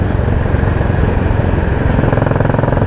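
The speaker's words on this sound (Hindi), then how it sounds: "बहुत ही स्मूथ हो चुका है इसका इंजन वगैरह" A Royal Enfield Bullet 350 single-cylinder engine runs steadily up close while riding, a loud, continuous low thump with dense rumble and no speech over it.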